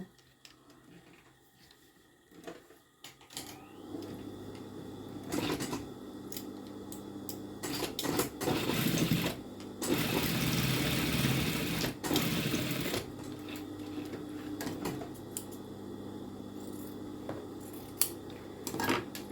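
A sewing machine stitching two pieces of fabric together to lengthen a garment waist, quiet and sparse at first, then running in a loud continuous burst midway before settling back to softer intermittent stitching.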